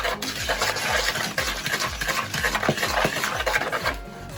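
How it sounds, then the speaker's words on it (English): Rapid rhythmic scraping of a utensil stirring half a cup of sugar and half a teaspoon of cinnamon together in a bowl, close and fairly loud, with gritty regular strokes throughout. "I have a half a cup of sugar and a half a teaspoon of cinnamon in this bowl. I'm gonna mix it up."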